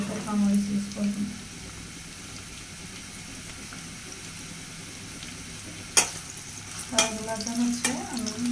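Small fish curry with sour leaves and onion being stirred in a pan in a hill-style home kitchen, a steady low sizzle with a few sharp scraping knocks near the end.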